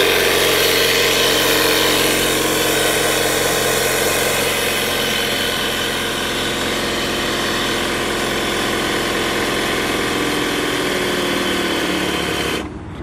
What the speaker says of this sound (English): The compressor is a little loud.